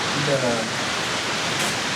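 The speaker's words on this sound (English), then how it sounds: "It's still raining." A steady, dense hiss of heavy rain pours continuously near waterfalls in Switzerland, with a faint voice briefly audible early on.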